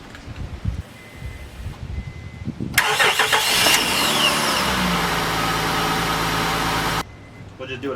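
A Honda Odyssey minivan engine with a newly replaced starter cranks briefly and catches, then settles into a steady, fairly loud idle that runs for several seconds before shutting off, with faint handling noise around it.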